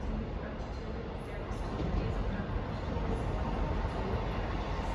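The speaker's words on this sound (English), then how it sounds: "arriving in now is the delayed 1532 ScotRail service from Cowdenbeath to Edinburgh Waverley" A delayed ScotRail passenger train from Cowdenbeath to Edinburgh Waverley pulls into Haymarket station, a steady low rumble of wheels and engine close by, with a faint high squeal from the rails over the top.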